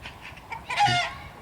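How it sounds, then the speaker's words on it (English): Chickens cluck close by in the old city of Södertälje, a short run of soft clucks rising to one louder squawk, with no talking. "Chicken everywhere."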